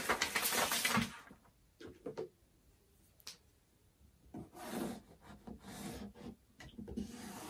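A pen or marker rubs across a paper sewing pattern for a swimsuit, marking a line: several short scratchy strokes with quiet pauses between them, close and soft, with no talking.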